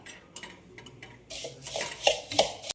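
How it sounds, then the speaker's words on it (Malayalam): Flattened rice (aval) is dry-roasted in a pan, with light scraping and stirring against the metal, and rattling clinks and taps that grow busier and louder toward the end. "ഈ അവിലിതാ അവിലൊന്ന് നന്നായിട്ട് വറുത്തെടുക്കണം ആദ്യം വെറുതെ ഒരു പാത്രത്തിലിട്ട് ചൂടാക്കി എടുത്താൽ മതി"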